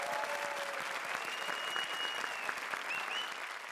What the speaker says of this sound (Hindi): तो एक बार जोरदार तालियां हमारी 4 तिकड़ियों के लिए